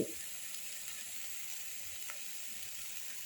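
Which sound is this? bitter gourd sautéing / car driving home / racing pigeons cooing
bitter gourd sautéing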